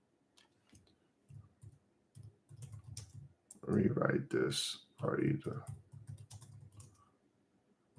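Quiet bursts of clicky computer keyboard typing come in short runs, with a person speaking briefly in the middle between the keystrokes.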